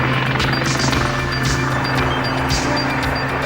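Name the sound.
Sea King helicopter flying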